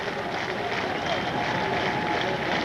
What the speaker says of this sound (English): they're clapping here for him